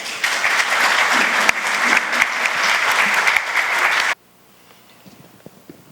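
Audience applause at a book launch presentation, loud dense clapping from a seated crowd that holds steady for about four seconds, then cuts off abruptly into near silence.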